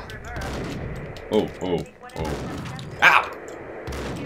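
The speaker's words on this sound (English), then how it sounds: "The first shot totally hit you, but you didn't react to it." Gunfire in the video game Max Payne, several punchy shots in quick succession under a steady game background, with a man briefly exclaiming between them.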